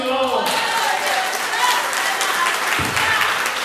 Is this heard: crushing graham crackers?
no